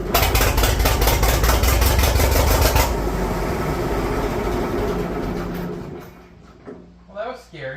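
A McCormick-Deering 10-20 tractor engine fires and runs loud and close with a steady rapid chugging for about three seconds, then keeps running rougher and fades to quiet, with brief voice-like sounds near the end.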